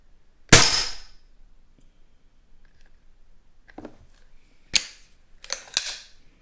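Beeman P17 air pistol firing pellets at a stick outdoors at 10 m, one loud sharp crack followed after a pause by three more snappy shots and impacts, close and dry.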